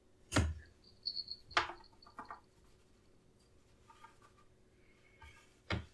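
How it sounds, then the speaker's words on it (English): A cookie cutter pressed through eggnog cookie dough for stained glass cookies, giving a few sharp, close taps and scrapes spaced out over quiet pauses. "I'm going to take this medium-sized one and cut out the cookie"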